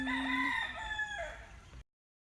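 A rooster crows once up close on Hawaii's Big Island, loud and drawn out with a wavering tail, then cuts off abruptly to silence.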